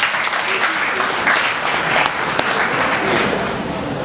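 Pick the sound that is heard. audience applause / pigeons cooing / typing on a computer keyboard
audience applause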